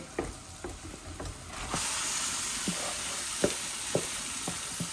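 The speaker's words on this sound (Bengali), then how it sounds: "এখন আমি চিকেনগুলা ঢেলে দিব।" Chicken pieces hit hot oil and a broad sizzle swells up and holds steady, with a few sharp clinks of a utensil on the pan scattered through it, close by.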